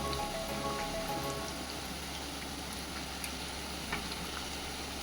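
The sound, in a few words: patra (colocasia leaf rolls) frying in oil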